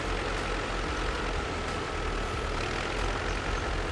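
A T-40AM tractor engine in the off-road driving game Spintires: MudRunner runs at a steady, loud drone with a low rumble and no pauses throughout.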